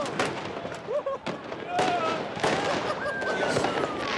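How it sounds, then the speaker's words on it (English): Fireworks go off in a crowded city square during street celebrations after a dictator's overthrow, with sharp bangs and crackles popping at irregular intervals, some near and loud, under crowd noise and voices. "Every kid above the age of 5 seems to have been issued a lighter and a fistful of fireworks."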